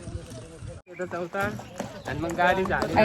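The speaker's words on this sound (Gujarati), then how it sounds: "આ લોકો પાછળ ઘોડા ઉપર આવે છે" Horses carrying riders along a trail at Matheran, their hooves clip-clopping in a loose walking rhythm close by, partly under steady conversation.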